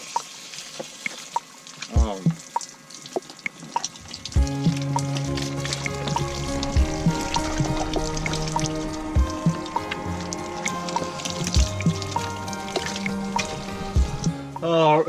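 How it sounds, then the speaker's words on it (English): Hot water splashing from a bin over a person in a makeshift van-life shower outdoors, a continuous close pour and drip broken by brief bursts of talk and exclamations. "We just boiled some water up so I can have a semi-warm shower."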